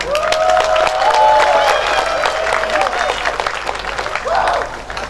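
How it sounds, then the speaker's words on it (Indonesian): Crowd applauding at a regional jamboree in East Java, sustained clapping mixed with cheering and children's shouts, while an amplified voice or music tone rises above it. "Tepuk tangan."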